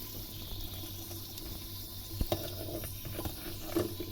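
Tap water running at a kitchen sink while someone washes up, a steady faint flow with a few brief clinks and knocks near the middle and end, alone without talk.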